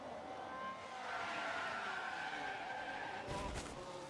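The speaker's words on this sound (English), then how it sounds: "I heard the tires screech" Race car tires screech in F1 Manager 24, a sustained skidding squeal that swells and fades over engine noise, ending in a short rough burst of impact-like noise.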